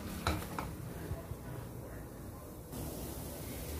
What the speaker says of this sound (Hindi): अब हम इसको लगातार बस चलाते ही रहेंगे